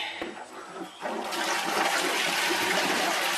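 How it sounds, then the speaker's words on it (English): A toilet flushes at a farm stay, starting with a brief click and then a loud rushing swirl of water that builds up and keeps roaring close by. "Flush toilet."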